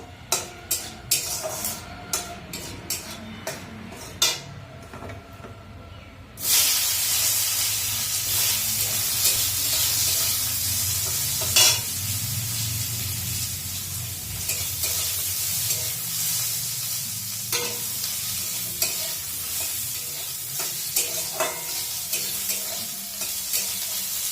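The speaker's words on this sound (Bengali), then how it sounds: "শুকনো লঙ্কা আর সর্ষে ফোড়ন দিয়ে দিলাম" Dried red chillies and mustard seeds crackle and pop in hot oil, a scattered series of sharp snaps giving way to a loud, steady sizzle and hiss with occasional stirring scrapes, close by.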